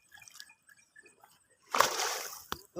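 During hook-and-line fishing, a short burst of sloshing water splashes close by after a few faint sounds, ending with a sharp final splash that wets a phone.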